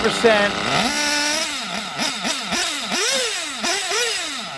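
An STS D21B Dragon nitro RC engine running on Traxxas Top Fuel 33% with a 9mm venturi, buzzing loud and close as it revs up and down repeatedly in sharp bursts.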